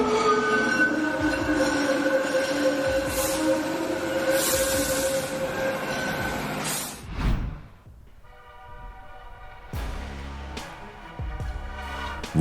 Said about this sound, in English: Running eastbound on Canadian National's Freeport route, this ethanol train moves swiftly through the line.